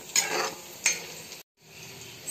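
Khar, a homemade banana-ash dish, is stirred in a pan with raw mustard oil; two brief scraping, sizzling strokes stand out close up, followed by a short gap and a quieter low hiss.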